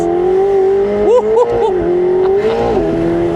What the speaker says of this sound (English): the downshifts are so mean on these cars